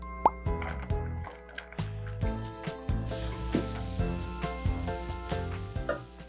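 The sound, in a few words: butter sizzling in a pan for fried rice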